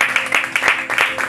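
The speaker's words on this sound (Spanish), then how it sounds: "denle un aplauso al Espíritu de Dios" Church congregation applauding during a Spanish-language sermon, a dense wash of clapping with repeated surges, steady and fairly loud for the short stretch.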